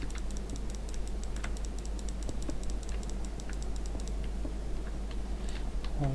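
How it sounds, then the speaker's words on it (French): Rapid clicking on a computer during a Minecraft Fallen Kingdom session, a steady stream of close, light, dense clicks over a constant low hum. "je clique comme un malade alors qu'il me suffit de rester le clic appuyé"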